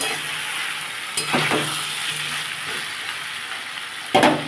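Watermelon rind vegetable frying in a pan, a steady close sizzle broken by a few sharp spatula scrapes and clinks against the metal, loudest near the end, without any speech.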